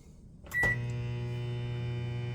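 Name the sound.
microwave oven struggling on an AllPowers R1500 power station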